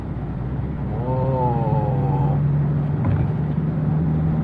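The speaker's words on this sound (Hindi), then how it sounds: "ये मैंने 4th गियर पे थ्रॉटल थोड़ा ज्यादा दबाया" Tata Hexa SUV with a 400 Nm engine pulling uphill in fourth gear under heavier throttle, a steady low drone rising into a brief climbing whine, loud and close with no talk.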